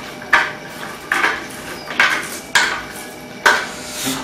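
Crushed dried mint stirred into a dish with a spoon, several sharp metallic scrapes and clinks against the pot at irregular intervals, close and fairly loud over a quiet background.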